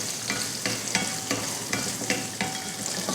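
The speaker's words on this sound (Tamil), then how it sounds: "இதை நல்லா வதக்கிடலாம்." Small onions sizzle and fry in hot oil for a mutton curry, with a steady crackle broken by regular stirring scrapes about every half second, close and moderately loud, no voices.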